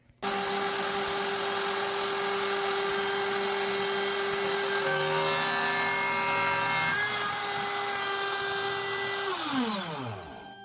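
Power tool cutting mold material about 1/8 to 1/4 inch thick, a loud steady whine that runs continuously for about nine seconds, changes pitch midway, then spins down as the motor stops, with no talking.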